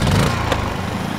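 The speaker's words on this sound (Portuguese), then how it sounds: "primeiro precisamos ligar o gerador. Isso é o que fornece energia ao congelador" A small generator engine runs, powering an ice cream freezer, giving a steady, close mechanical drone for about a second.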